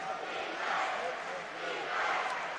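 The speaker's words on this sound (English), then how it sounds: "Crowd getting into it." A crowd cheers and roars steadily at a WPIAL Class 1A boys high school basketball championship between Union and Vincentian Academy, late in a tied fourth quarter, swelling in two broad waves across the clip.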